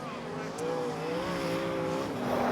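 Sprint cars race at Charlton Raceway with engines droning loud and close, pitches sliding up and down as they slide sideways, with a commentator talking over them.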